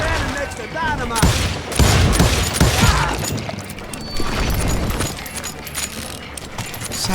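Bursts of gunfire from a regiment of hired guns in the Call of Juarez Gunslinger video game pop and rattle over dense game noise, with a voice talking over part of it.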